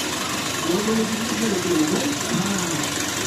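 A 1950s 35 mm cinema projector at a small cinema house in Adana running with a continuous mechanical whir and rattling hum, loud and close, with a faint voice-like tone in the background.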